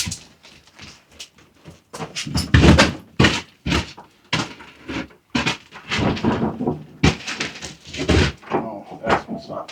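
A door shoved repeatedly against something blocking it at a remote abandoned place, giving dull thunks and scrapes in bursts, with people talking throughout.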